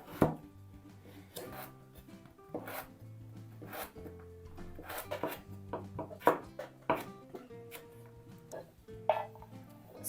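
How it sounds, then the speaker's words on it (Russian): A knife chops a carrot on a cutting board while preparing pea soup, a series of irregular crisp close knocks and scraping slices, quiet with no talk. "Пока все процессы наши продолжаются, нарежем морковь."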